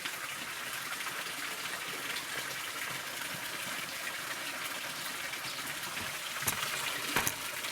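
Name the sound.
fish tank aerator bubbling water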